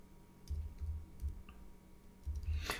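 A computer keyboard clicks softly in a few quick, quiet clusters of keystrokes over a faint steady room hum, with no speech.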